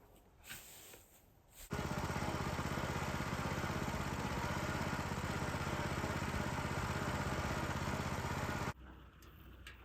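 A car's engine drones loud and steady from inside while driving through countryside fields and forests, a constant hum lasting most of the stretch, with quieter road rumble before and after.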